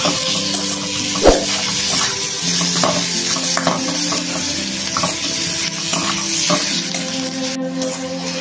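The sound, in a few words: onions frying in a pan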